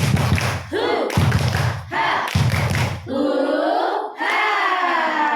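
Audience in an indoor training session claps out a rhythmic spirit chant in loud bursts of clapping and shouting, broken by short pauses, with voices calling out between the rounds.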